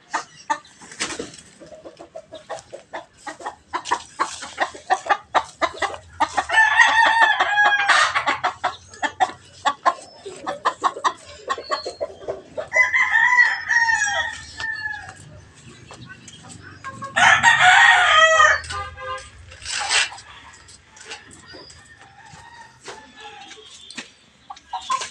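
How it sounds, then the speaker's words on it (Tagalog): A Milsim Black rooster crows loudly and close by, with several drawn-out calls spaced apart, amid scattered clucking, clatter and background farmyard noise. "Ang ibang klase naman yung manok na yan. Yung Milsim Black."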